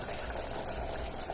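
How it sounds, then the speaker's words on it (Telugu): Mutton curry boils in a pot, giving a quiet, continuous low bubbling and gurgling with no voices. "మటన్ అయితే బాయిల్ అవుతుంది"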